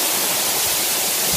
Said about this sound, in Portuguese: mais uma cachoeira